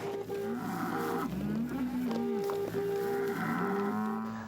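Cattle mooing on an Oklahoma farm, several long, loud low moos in a row, close by and with no talking.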